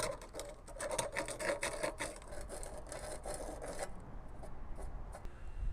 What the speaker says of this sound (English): I'm just going to take some sandpaper and smooth out the hole.